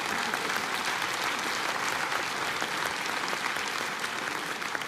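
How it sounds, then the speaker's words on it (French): A comedy show audience at a French stand-up performance bursts into sustained, dense applause, loud and steady from start to finish with no voices over it. "Ouais, on peut l'applaudir."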